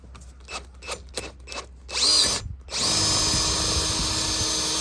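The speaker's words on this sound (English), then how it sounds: "I put a bigger type of drill, that way I could even this out a little bit more." A power drill bores out a stripped exhaust manifold nut on a Mercedes, starting with short bursts, then settling into a steady, loud, close whine that runs continuously to the end.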